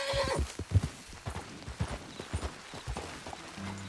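Horse hooves clip-clop in Red Dead Redemption 2, a brisk run of hollow thuds at a steady trotting rhythm, close and clear, with a short whinny-like tone at the start.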